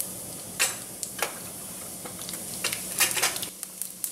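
Cumin seeds crackle in hot oil in a pan, a few sharp close pops and sizzling crackles scattered irregularly over a quiet hiss.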